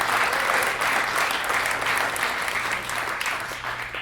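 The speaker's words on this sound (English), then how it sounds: "No, Carly MC, give her a big round of applause, man" A comedy festival crowd in Milwaukee breaks into steady, dense applause and some cheering, loud and sustained throughout, with faint voices mixed in.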